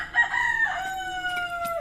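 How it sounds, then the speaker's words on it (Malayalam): A backyard chicken lets out a single drawn-out crow, fairly near and clear over a quiet background, trailing off in a falling tone. "അതാ കോഴി."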